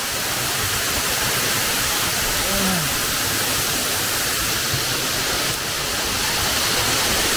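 A waterfall in Balabac roars steadily nearby, a thick unbroken wash of falling water with a few faint, brief tonal calls or voices rising briefly above it.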